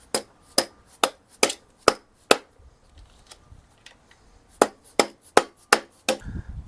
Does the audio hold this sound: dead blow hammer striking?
yes